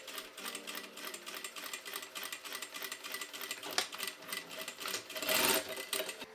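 A sewing machine runs steadily while stitching lining straps 7 millimetres from the edge of a lace-up panel top, a fast continuous needle rattle and motor hum, close and alone, with a brief louder burst near the end.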